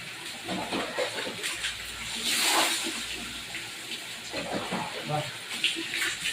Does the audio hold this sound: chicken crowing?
no